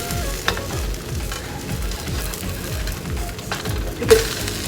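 Bread and egg sizzle steadily in a frying pan after flipping, a constant close crackle with faint scraping and a couple of soft utensil knocks.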